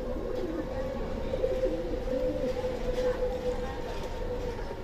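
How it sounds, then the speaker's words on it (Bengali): A pair of large pigeons, newly bought and frightened, huddle in a cage, giving a soft continuous cooing under steady background noise. "যদিও এখন সেট হয় না কবুতরগুলো, ভয় পাচ্ছে খুবই।"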